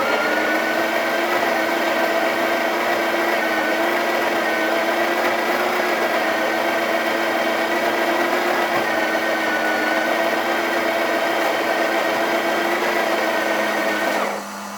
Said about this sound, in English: let's go ahead and grind some coffee